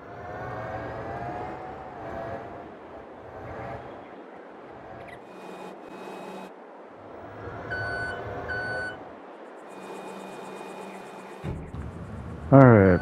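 A forklift in Farming Simulator 22 gives off steady, repeated reversing beeps as it loads pallets, with engine rumble and machinery sounds around them and someone talking at moments, before a louder clatter at the end.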